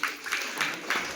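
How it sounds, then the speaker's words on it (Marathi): A group of students claps on request during a talk on board exam fear, a short patter of a few scattered hand claps close by. "टाळ्या वाजवा."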